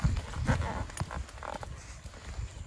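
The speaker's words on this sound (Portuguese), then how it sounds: "Controle de velocidade do meu cavalo" Hooves of a horse in training thud and clop on the ground in an uneven rhythm, close and moderately loud, with faint voices and handling noises mixed in.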